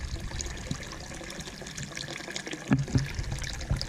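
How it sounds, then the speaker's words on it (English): Water running through a newly installed Jobe Rojo valve, a quiet, steady trickle and splash with a few brief gurgling bursts near the end, heard alone. "let me go turn the water on a little bit higher here"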